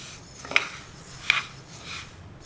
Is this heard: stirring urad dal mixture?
yes